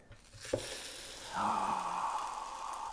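French toast sizzling on a skillet: a brief soft clatter, then a steady hiss of frying rises and holds, moderately loud and close, with no talking.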